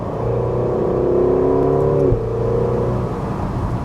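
A Ferrari California T engine revs up with a rising, throaty drone as the rear exhaust flaps open, holds for a moment, then drops abruptly as the pitch falls back to idle.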